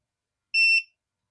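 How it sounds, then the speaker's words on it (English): A single short, loud electronic beep from a Presidium gem tester signalling low battery, sharp and alone in silence. "Sorry for that loud beep."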